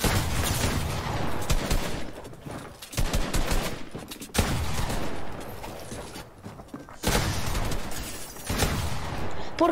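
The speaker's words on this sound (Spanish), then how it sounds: "¿Por qué le disparo y no le hago daño?" Bursts of rapid gunfire crackle in dense volleys with brief pauses between them, loud and sustained, like automatic weapons in a game firefight.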